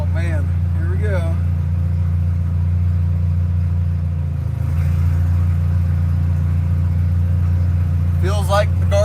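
A car engine idling and running in first gear on a first drive after a transmission rebuild, a loud steady low hum with a brief dip midway, while people talk excitedly over it.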